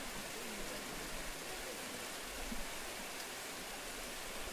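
A waterfall between Huhdangru and Rurur village roars as a steady, broad wash of falling water, constant and moderately distant, with no pauses.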